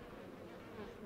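Insect buzzing from flies around remains in the horror video game Outlast 2, a steady, continuous drone with no talking.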